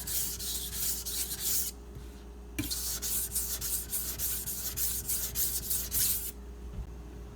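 Karaku AS 210mm gyuto knife drawn across a 400 grit Naniwa Pro whetstone, giving repeated close, gritty rasping strokes in an even rhythm with a short pause in between.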